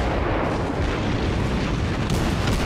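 Heavy naval guns firing in World of Warships, a dense, continuous roar of booming blasts with no clear gaps, loud and close throughout.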